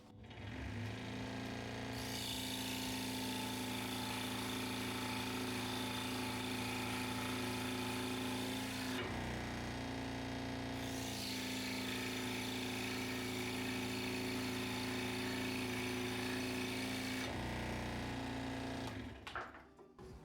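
A scroll saw cuts a small slot in wood with a steady, close buzzing whir. It runs in two long passes separated by a brief pause and stops near the end.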